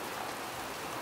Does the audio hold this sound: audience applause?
no